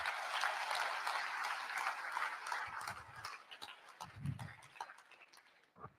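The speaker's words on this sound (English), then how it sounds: "And I think they deserve a big applause." An audience at a talk in Durban applauds, a dense patter of clapping that starts fairly strong and fades toward the end, heard from a distance and fairly quiet.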